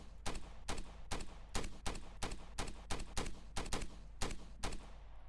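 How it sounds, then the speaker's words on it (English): Gunfire during a police incident with a California Highway Patrol officer: a rapid volley of about a dozen sharp, loud shots in an uneven rhythm, close by, with no talking. "shots fired by my end"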